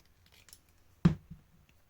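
A single close snip of scissors cutting through a layered paper tag, one crisp cut followed by a softer tail, faint and quiet otherwise.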